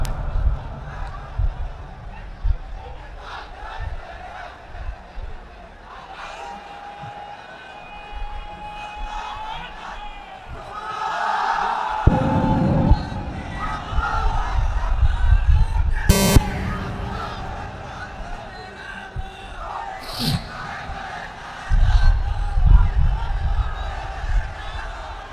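A large crowd at an Islamic sermon gathering shouting the takbir chant back in unison after a preacher's amplified calls, heard as a few loud, roaring bursts of massed voices between stretches of the preacher speaking over a PA.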